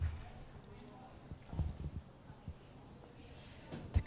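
Muffled hoof thuds from a horse in a collected dressage walk on an arena surface, a few soft, uneven footfalls over a low, noisy background, fairly faint and distant.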